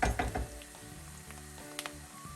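Garlic goes into hot oil in a pan for Egyptian shakshuka, opening with a few clunks followed by a soft, steady sizzle of frying at low volume.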